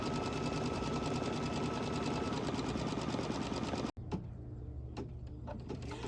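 An embroidery machine stitches light green stems onto a quilt block with a fast, even mechanical whirring that stops abruptly, followed by quieter clicks and taps as it resets.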